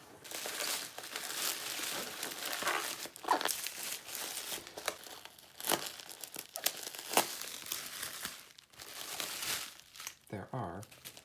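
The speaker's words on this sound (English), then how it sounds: "I should be able to just pop the lid open like that" A taped cardboard box lid opens amid steady crinkling and rustling of packaging material, close by and continuous, with a few sharper crackles and a brief tonal squeak near the end.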